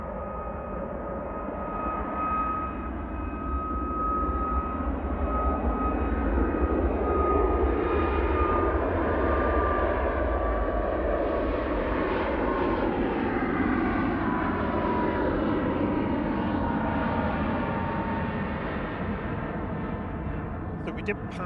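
An Airbus A380 rolls for takeoff at full power at Manchester Airport in the evening, its jet engines building into a loud, sustained roar that swells and holds across the whole stretch.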